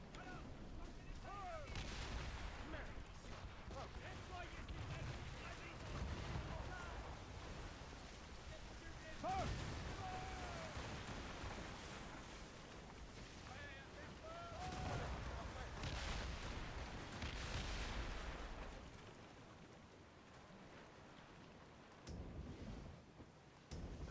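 Gunfire in the video game Assassin's Creed Rogue, heavy booming shots with a cannon-like weight coming in several loud bursts across the clip, blended with rumbling game ambience.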